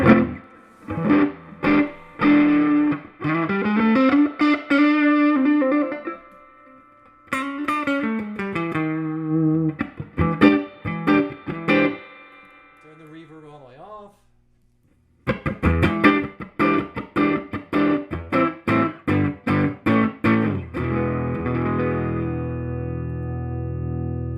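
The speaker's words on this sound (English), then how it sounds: "Let me turn the reverb all the way up." Electric guitar played through a Fender Champ 12 tube amp with new tubes and the reverb turned all the way up, chords and melodic runs ringing out with long washy tails, pausing briefly before strumming resumes.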